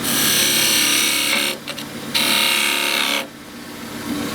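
A wood lathe tool makes shear cuts on the rim of a small turned wooden pencil pot, sustained hissing scraping passes, loud and close, with short pauses between strokes.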